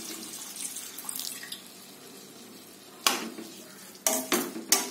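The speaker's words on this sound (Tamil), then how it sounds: "இப்போ முருங்கக்கீரை வேகிறதுக்கு தேவையான அளவு தண்ணி ஊத்திக்கோங்க" Water is poured into a pan of sautéed drumstick leaves for a dal: quiet sizzling first, then sudden bursts of hissing, splashing water, close by with no voices.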